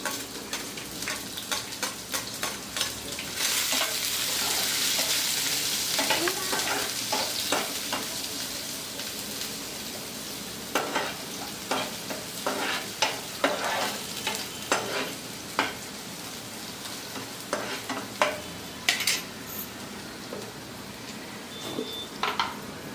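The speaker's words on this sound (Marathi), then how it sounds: "कांदा टाकते लसूण" Onion and garlic frying with cumin in a pan, a continuous sizzle broken by repeated scraping and clicking strokes of a spoon as the mix is stirred, growing busier in the second half, with no talking.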